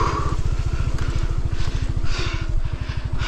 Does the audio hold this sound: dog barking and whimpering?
no